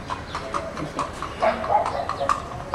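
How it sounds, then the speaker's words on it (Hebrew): Horse hooves clip-clop at a walk in Kiryat Haim, a light uneven rhythm of moderately near steps over a quiet outdoor background. "יש סוס פה בקריית חיים פתאום"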